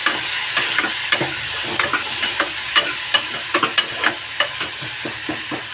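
Chopped onion, three dried red chilies, curry leaves and coriander sauté in hot oil after mustard seeds have spluttered: a close, bright sizzle punctuated by a run of sharp spatula taps and stirring clicks, with no voices.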